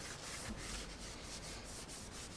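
A non-abrasive pad gives a surface a quick rub down in close-up, a steady brushing swish with rhythmic strokes about every quarter second, alone and quiet.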